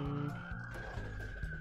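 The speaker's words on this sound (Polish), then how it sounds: "musi karetka jechać jak na złość, nie?" An ambulance siren wails in a steady held tone with a slight upward drift, heard outdoors at moderate distance over a low rumbling background.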